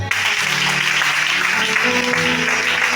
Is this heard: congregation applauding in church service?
yes